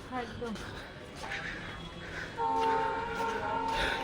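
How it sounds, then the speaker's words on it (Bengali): A train's tonal horn sounds from a distance near Haridwar, India, growing louder and holding near the end, over outdoor ambience with voices talking. "আর ট্রেন আসছে কিন্তু দেখে।"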